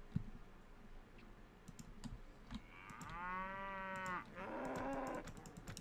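Cattle low in Mount & Blade, a long drawn moo followed by a second, with soft mouse and keyboard clicks tapping around them at low volume.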